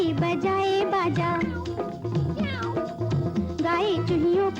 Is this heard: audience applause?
no